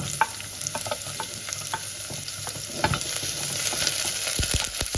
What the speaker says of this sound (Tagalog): Igisa na po natin yung ating garlic at saka yung ating sibuyas.